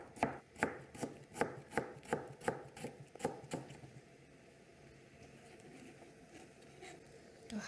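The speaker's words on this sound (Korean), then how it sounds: "그 다음 배를 또 무와 똑같은 모양으로 얇게 썰어 놓습니다." Knife thinly slicing pear on a cutting board, a quick even rhythm of about a dozen crisp close chops that stop partway, followed by quiet room noise.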